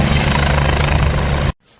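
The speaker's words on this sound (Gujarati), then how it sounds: "આ હેલિકોપ્ટર જે આવ્યું એ અમરનાથ સાઈડથી આવ્યું" A helicopter flies in from the Amarnath side, probably heading toward Baltal in the Kashmir mountains. Its loud, close, throbbing rotor roar holds steady, then cuts off sharply near the end.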